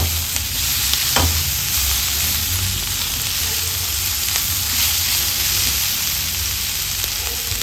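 Egg chilli sizzles steadily in a hot pan with a continuous frying hiss, with occasional stirring clicks and no talk.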